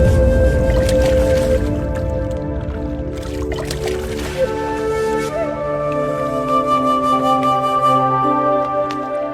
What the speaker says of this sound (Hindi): महाराज, अब आप इन दोनों घड़ों को पानी में डाल दीजिए।